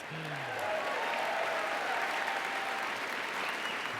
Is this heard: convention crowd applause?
yes